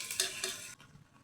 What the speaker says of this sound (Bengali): আমি এখন রান্না করব কাঁচামরিচ আর পেঁয়াজ কুচি